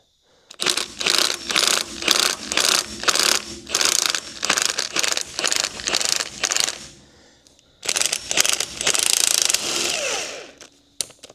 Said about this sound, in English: behind the top part of the spindle, I used a wobble head, and let's see if it'll break it free or if it just spins with the ball joint.